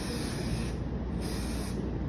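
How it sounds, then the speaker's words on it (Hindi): Hairspray hisses steadily onto a heavy bridal hairstyle, a continuous close aerosol spray lasting the whole moment with slight pulses, no talk over it. "अब इस पर हम स्प्रे करके छोड़ देंगे।"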